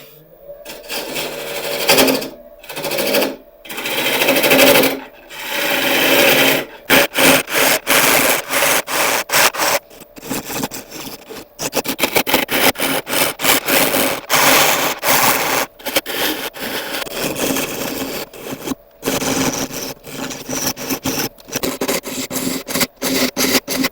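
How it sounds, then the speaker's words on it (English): A 3/8 inch bowl gouge cuts a hard mallee burl spinning on a lathe, loud and close, with rough scraping bursts broken by short pauses as the tool lifts and re-engages, and no talking. "I'll switch over to the 3/8 inch bowl gouge"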